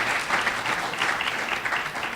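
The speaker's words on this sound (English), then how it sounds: "I see you clapping." Steady audience applause at a river advocacy event, a dense, even patter of many hands clapping without a break, fairly close and moderately loud.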